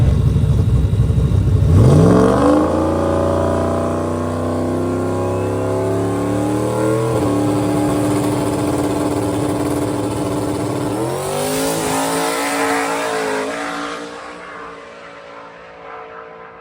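Drag car launching off the starting line at a drag strip, loud engine rising in pitch through several gear changes, then fading into the distance as it runs away.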